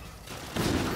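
A gunshot from a longbow rifle in the video game Call of Duty Infinite Warfare, a single burst rising midway through and trailing off into noisy rumble.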